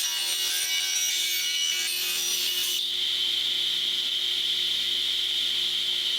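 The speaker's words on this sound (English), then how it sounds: "now with the blade set up the way that we want it, we want to run our board through with the angle side up and out" A saw blade cutting through a wooden trim board fed angle side up, a loud steady whining rip that shifts to a narrower, sustained high tone partway through, with no voices.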